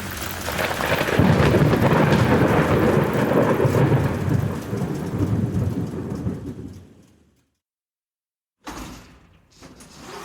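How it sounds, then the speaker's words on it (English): Heavy rain pours with a deep rolling rumble of thunder, fading away into silence, then a brief burst of noise returns near the end. "I can't help but notice that it has started to rain"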